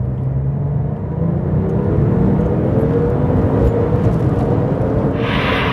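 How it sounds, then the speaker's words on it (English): Turbo sports car accelerating hard in second gear, one of a Ferrari F40, Porsche GT2RS, Noble M600 or Jaguar XJ220: a loud, steady engine roar rising in pitch from inside the cabin, ending with a brief hiss. "There's not much noise, but this is what happens in second gear."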